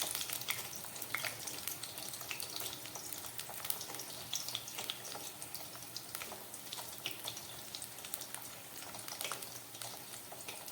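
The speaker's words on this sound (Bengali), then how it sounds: "গ্যাসটা মিডিয়ামে করে আমি আলুগুলোকে ভালো করে খুব সুন্দরভাবে ভেজে নেব" Potato pieces frying in hot oil in a wok over a medium gas flame, giving a dense, continuous crackling sizzle that holds steady throughout, close and fairly quiet with no talking.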